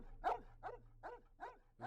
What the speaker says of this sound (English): ムカつくんだよあの犬。